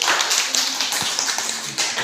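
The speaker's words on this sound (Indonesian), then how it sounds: "tepuk tangan untuk Dewi" Applause from a school classroom during a lesson, a dense patter of small hands clapping steadily and fairly close, with no talk over it.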